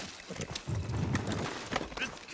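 Horse hooves clop in an uneven rhythm at moderate distance in the video game Red Dead Redemption 2, mixed with low rumbling and a voice speaking briefly.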